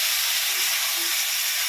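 Masala of turmeric and cumin powders, loosened with a little water, fries hard in a pan for a rui fish methi dish, giving a dense, even, close hiss with no talking.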